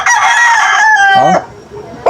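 Gamecock rooster crowing nearby, one loud, drawn-out cock-a-doodle-doo that falls off at the end, followed by a brief lower cluck.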